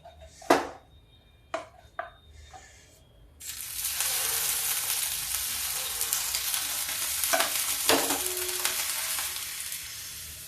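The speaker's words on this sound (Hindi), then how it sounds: "गैस रखेंगे धीमी, इसको फिर से घोटेंगे जिससे जमने ना पाए।" A few sharp utensil knocks give way to steady, close sizzling and scraping as a gram flour (besan) eggless omelette batter is stirred in a pan over low gas.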